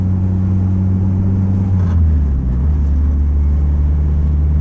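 A Honda Integra's exhaust rattles while driving, set against a loud, steady engine drone that dips briefly in pitch as the car moves along, with no voices.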